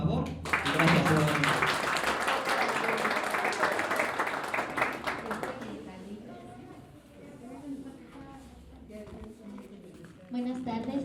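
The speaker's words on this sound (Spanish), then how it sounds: "aquí a nuestra compañera Ana, le damos un aplauso, por favor." Applause from an audience at a book presentation in Ecatepec swells to a dense, steady clatter of clapping for several seconds, then thins and fades amid murmuring voices in the room.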